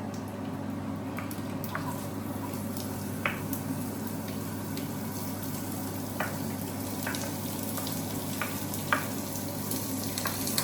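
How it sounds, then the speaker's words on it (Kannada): Onions sizzle steadily in a hot pan for a Bisi Bele Bath recipe, a continuous frying crackle with a few soft scrapes and stirs rising above it. "ಇದನ್ನ ಸ್ವಲ್ಪ ಫ್ರೈ ಮಾಡ್ಕೊಳ್ಳೋಣ"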